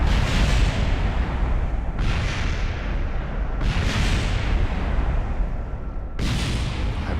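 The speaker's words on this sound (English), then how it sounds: "no idea what those explosions are" Four deep, heavy explosions boom one after another at uneven intervals in Kerbal Space Program, each rumbling out into a long roar before the next blast.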